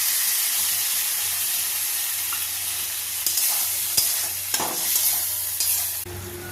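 Spice paste fries in a pan with a steady broad sizzle while a spoon stirs it, scraping strokes and soft knocks rising at intervals in the second half; nobody speaks.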